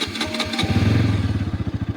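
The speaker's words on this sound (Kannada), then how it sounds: "ನಿಮ್ಗೆ NS200 ಎಕ್ಸಾಸ್ಟ್ ಸೌಂಡ್ ತೋರಿಸ್ತೀನಿ ಬೈಕ್." A Bajaj Pulsar NS200 motorcycle exhaust, already warmed up from a cold start, bursts into a rev and then settles into a close, throbbing, rapid rhythmic idle pulse, with no talking.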